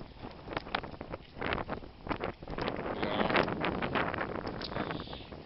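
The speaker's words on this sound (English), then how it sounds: "Kind of windy." Gusty wind buffets the microphone in the early morning at an old train station by the water in Benicia, rising and falling in rough bursts, fairly close and alone.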